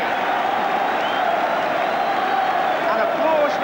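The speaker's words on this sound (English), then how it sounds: "applause ringing round the stadium for the Arsenal goalkeeper" Stadium crowd applauding the Arsenal goalkeeper after a fine save in a 1986/87 League Cup quarter-final against Nottingham Forest, a steady, broad wash of clapping and murmuring that rolls on without a break, with a commentator talking over it.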